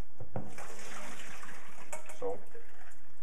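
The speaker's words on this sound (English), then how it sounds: "then we'll just drain our broccoli, because the 2 minutes are up" Boiled broccoli water pours into a colander in a steady, close splashing rush, with brief voices speaking over it.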